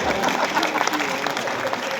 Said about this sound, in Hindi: तालियां कम रह गई आपकी